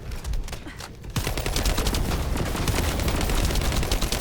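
Sustained rapid gunfire from the shooter game The First Descendant rattles loud and continuous, a dense stream of shots that starts after a brief quieter stretch and keeps going without pause.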